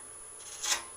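A wood lathe tool catches while turning a wooden Easter egg, giving one brief, harsh scraping rasp that rises and fades within a fraction of a second over a faint steady hum.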